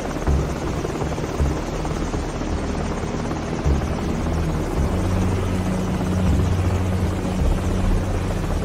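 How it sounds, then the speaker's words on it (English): A helicopter passes overhead in the Call of Duty 4: Modern Warfare campaign, its steady rotor drone loud and continuous throughout, with a low rhythmic thump in the bass. "You sure you want to do it with the helicopter right there?"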